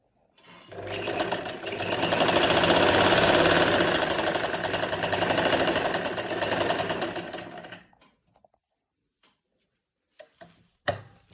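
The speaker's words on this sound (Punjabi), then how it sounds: "ਹੁਣ ਆਪਾਂ ਇਦਾਂ ਹੀ ਅੱਗੇ ਸਲਾਈ ਲਗਾ ਲੈਣੀ ਆ" Sewing machine running steadily as it stitches a finishing strip along the edge of a dupatta, a loud continuous whir for about seven seconds that then stops, followed by a few faint clicks and handling sounds.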